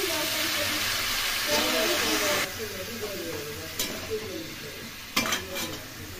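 Sweet pumpkin pieces with green chili sizzle steadily in a hot pan for a kumro curry, with scraping stirs and a few sharp clinks of a utensil against the pan near the end.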